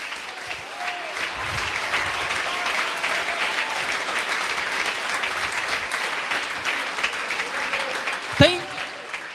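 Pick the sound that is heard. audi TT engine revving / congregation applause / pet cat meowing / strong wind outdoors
congregation applause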